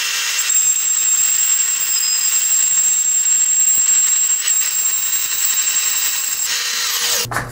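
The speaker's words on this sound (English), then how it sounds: "we'll just cut it with our portable bandsaw" A portable bandsaw cuts steadily through metal for a repair welding job, a continuous loud high-pitched whine that holds close and constant for several seconds before stopping abruptly.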